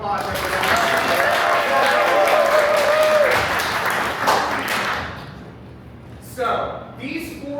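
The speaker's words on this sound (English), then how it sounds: "Give them a round of applause, everyone." Audience applause for four players stepping out at an improv comedy show, a loud burst of clapping and cheering that swells for several seconds, then fades as a voice starts talking near the end.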